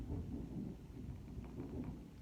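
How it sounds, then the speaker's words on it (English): Thunder rumbles low and continuous through a rainy thunderstorm, a steady rolling boom with rain hiss, no voices. "love thunderstorms"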